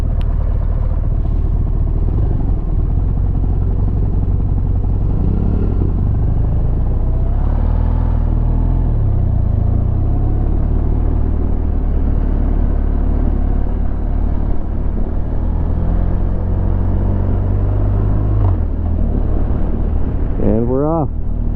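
A new rider's motorcycle pulls away, its engine rumbling steadily under heavy wind noise, with a rising whine of acceleration near the end; someone talks over it.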